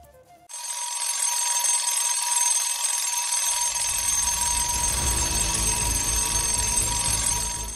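A loud, continuous electronic alarm ringing starts abruptly after a brief quiet moment and holds steady throughout, bright and piercing with no talking over it.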